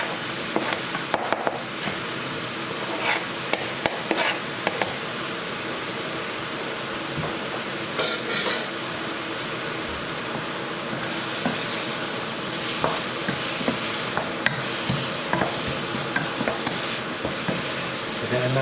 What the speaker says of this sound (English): So get a nice stir, get all the ingredients now mixed together